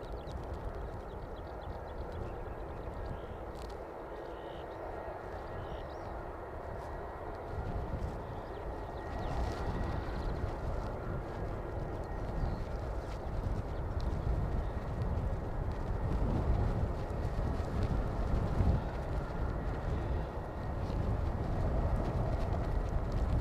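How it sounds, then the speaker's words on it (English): Strong, cold wind roars continuously at Christchurch International Airport, a steady broadband rush that grows louder and gustier through the second half, with no voices. "That wind's getting cold."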